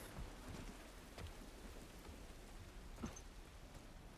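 Continuous rain pattering on a surface in the video game The Last of Us, with scattered heavier drops and a soft low rumble underneath, no voices.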